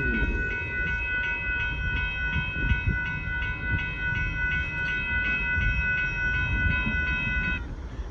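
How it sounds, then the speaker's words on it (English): A northbound KCSM grain train with NS power rolls past on Dittmar Road in Austin, Texas, its steady wheel rumble accompanied by a long, loud multi-tone horn that holds for most of the passage. "There goes northbound KCSM starting to make home and live no far southern trying on that grain train"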